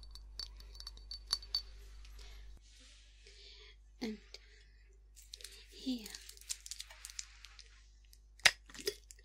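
A glass jar of boiled sweets is handled up close, with scattered clinks, taps and crinkly rustles spread irregularly over several seconds between quiet gaps, and a soft whispered voice in places.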